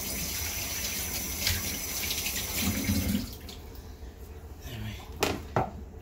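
Tap water runs into a bowl being washed out in a home kitchen, a steady splashing stream that stops partway through, followed by quieter clinks and small knocks of the bowl.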